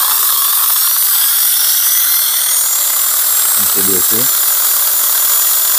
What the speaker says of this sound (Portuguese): Pronto, conectei aqui a tomada da furadeira.